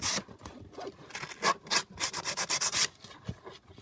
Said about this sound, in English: So I'm just going to literally sand that down like that.